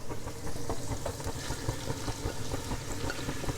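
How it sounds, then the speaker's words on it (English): Onions and fennel hit a pan of browning sausage and set off a steady, dense sizzle of frying that stays even and close throughout, with no talking. "And now we will add our onions and fennel."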